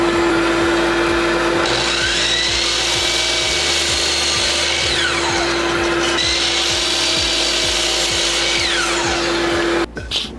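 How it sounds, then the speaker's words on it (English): A miter saw cuts through wood with a dust collector running, a loud steady motor whine broken by repeated blade passes through the stock, ending abruptly as the saw winds down. "now that we got the miter saw test done"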